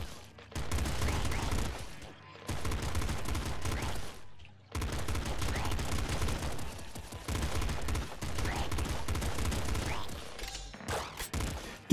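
Rapid bursts of bullet popper weapon fire in the video game Nuclear Throne, several sustained volleys of fast popping shots separated by short pauses, loud and dense.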